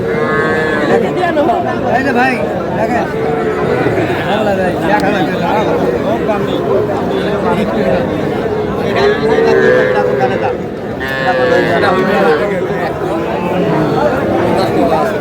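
Cattle, young bulls and heifer calves, low and moo repeatedly amid a busy Dhaka cattle market crowd, with voices chattering and bargaining loudly throughout.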